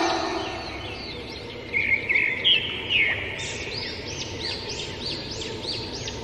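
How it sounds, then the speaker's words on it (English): Bird calls ring out over a steady outdoor hiss, a few sharp squawks early on followed by a run of fainter repeated chirps, moderately distant with no voices. "P for parrot."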